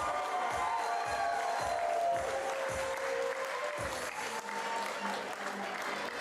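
A wrestling crowd at a live professional wrestling show applauds and cheers loudly and continuously, with a steady wash of clapping and rhythmic low thumps in the first few seconds.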